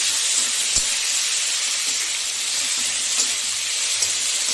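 Vegetables sizzle steadily in a hot pan while a fish curry is being cooked, a continuous close hiss with a few small pops and no talking.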